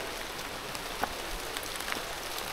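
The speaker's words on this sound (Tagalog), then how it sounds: "Kaya umulan po, inabot kami ng ulan." Steady rain patters on a surface near a hillside hut, a soft even hiss with a few scattered sharper drop ticks, fairly faint and without speech.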